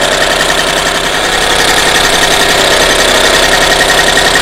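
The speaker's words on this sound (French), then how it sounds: "Maintenant que le moteur est chaud, vous voyez," A warm Peugeot 103 moped engine fitted with a Solex 3800 carburettor runs steadily at a loud, close idle with a buzzing, slightly knocking two-stroke note and no letup.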